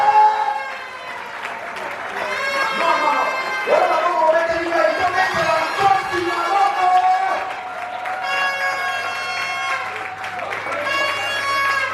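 Audience applause and cheering at a dance party, mixed with strong harmonic music and crowd noise that stays loud and continuous throughout.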